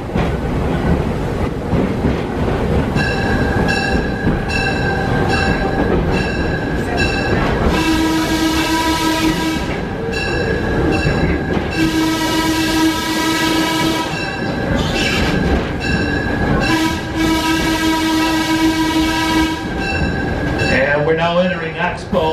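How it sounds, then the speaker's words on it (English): A historic late-1800s-style steam train at a Michigan heritage village rolls past nearby with rumbling wheels and clatter, sounding its whistle in three long blasts, with a voice speaking over the railroad noise. "enjoy the sights and sounds of railroading as it was in the late 1800s and early"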